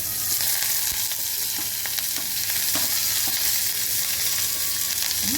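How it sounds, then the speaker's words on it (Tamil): Onions and curry leaves sautéing in a pan, with a continuous loud sizzle and occasional stirring scrapes close up, no voices. "இப்போ வந்து வெங்காயத்தை சேர்த்துக்கலாம் வெங்காயமும் கருவேப்பிலையும் சேர்த்துக்கலாம்"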